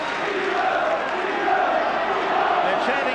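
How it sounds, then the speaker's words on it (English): Stadium rugby league crowd at St Helens versus Australia in 1986 chanting a player's name, a sustained rhythmic swell of many distant voices blended into a steady roar with faint commentary underneath. "They're chanting Viva's name."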